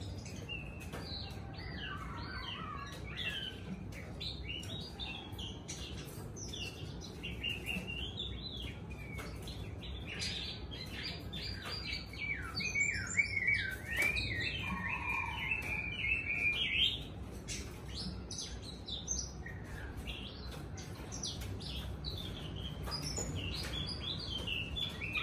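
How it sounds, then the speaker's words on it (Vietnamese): Wild oriental magpie-robin singing outdoors at a distance, a run of varied bright chirps, trills and whistled phrases over steady low background noise, with no talk. "các bác đang thấy con than ở ngoài nó đang liu riu nó chơi"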